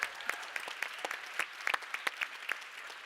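Conference audience at an EU youth event in Växjö applauds a colleague: scattered, fairly faint claps from a room of people, sparse and uneven rather than a full ovation.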